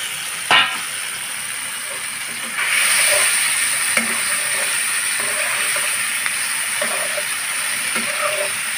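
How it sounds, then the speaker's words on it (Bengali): Masala spice paste stir-fried in a pan for a prawn and bottle-gourd curry, with a continuous hiss and sizzle that rises after a sharp clatter and carries faint stirring scrapes. "মশলাটা একটু ভালোভাবে কষিয়ে নিতে হবে।"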